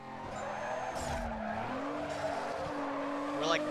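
Tires squeal as a tuner car drifts in Need for Speed Carbon, a long sliding skid over a steady engine drone, with a voice talking over it.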